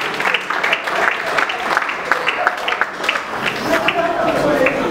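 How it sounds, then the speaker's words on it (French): An audience at a family memorial gathering claps in a dense, steady round of applause that runs the whole way through, with crowd chatter and voices mixed in beneath it. "on applaudit encore une fois la famille Saint-Cloud Julia"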